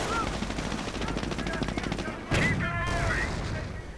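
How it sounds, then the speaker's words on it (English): MG42 machine gun firing in a World War II strategy video game, rapid rattling bursts layered with other battle gunfire, while a commentator talks over it. "MG42, they're opening up pretty quickly"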